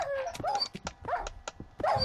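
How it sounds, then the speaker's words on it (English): A dog barks and whimpers in a series of close, sharp yips and barks in a Minecraft game, with no talking over it. "that dog needs to shut the fuck up"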